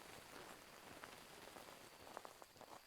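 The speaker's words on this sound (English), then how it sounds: "Why did they soften the whatchamacallit, the rain for heavy rain?" Heavy rain in the horror video game Phasmophobia, a soft, steady hiss of drops pattering on surfaces with a few sharper ticks, faint and constant with no talk.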